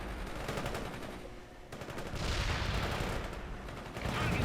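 Sustained gunfire from World in Conflict: dense, overlapping bursts and rattling automatic fire with booming impacts run continuously and loud throughout, a thick wall of battle noise with no pauses.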